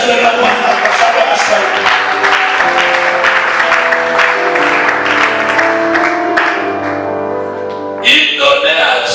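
A church congregation at a bible seminar applauds the Lord with loud, sustained clapping and cheering, joined by musical tones, before the applause fades and a fresh burst comes near the end.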